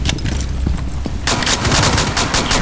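Gunshots in the video game Rainbow Six Siege crack out loud and close, scattered single shots giving way to a dense burst of rapid fire.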